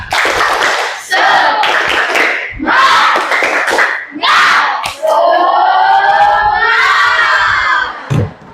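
Schoolchildren in a classroom perform a rhythmic spirit clap chant: loud bursts of group clapping and shouted syllables in a set pattern, ending in a long, sustained cheer from the whole group.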